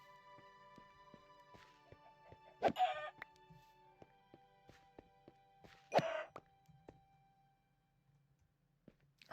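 Chickens in the Minecraft video game: two brief bursts of clucking a few seconds apart over quiet game ambience with faint scattered ticks and steps.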